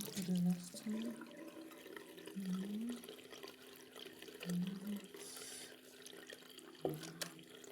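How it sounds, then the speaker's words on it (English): Water runs steadily from a tap while a makeup blender sponge is rinsed beneath it, a faint, continuous splashing with a voice talking over it. "now I'm going to rinse it, so I'll show you how it looks after"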